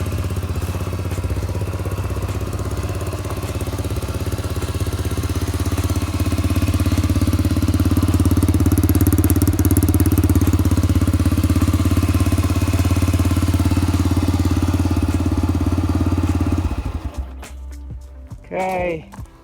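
A modified Yamaha 125 engine, swapped into a TOA 110 motorcycle, idles with a loud, steady, slightly rough drone close by for about seventeen seconds before cutting off, followed by brief talk.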